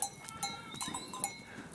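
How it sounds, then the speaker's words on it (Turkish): Large Honamlı goats returning from pasture near Geyikbayırı, Antalya, bleat several times at moderate distance amid faint outdoor ambience, with thin high calls breaking out in short bursts. "Orijinal keçiler bunlar."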